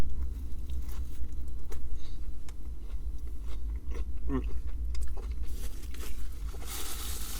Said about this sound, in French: Et ouais, le poulet est plutôt croustillant. Il n'a pas un goût fou, je vais regoûter un petit coup.